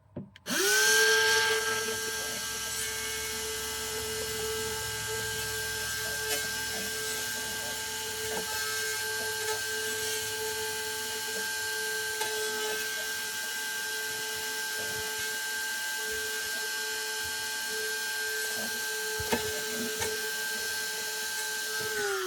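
A drywall cutout tool cuts a hole into a pipe, giving a loud close steady whine that starts abruptly and holds an even pitch for about twenty seconds, with small bumps in the grinding.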